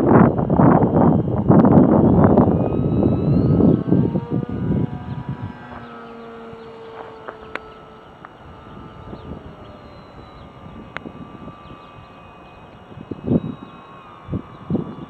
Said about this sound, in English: A little less than half throttle right there, motoring into the wind